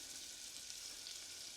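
Diced yellow onions fry in butter in a saucepan, a steady, quiet sizzle with a bright hissing texture and no voices.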